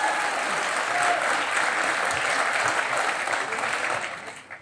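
Warm studio audience applause on a talk show with cricketer Suresh Raina as guest, steady crowd clapping that holds evenly and then fades out at the end.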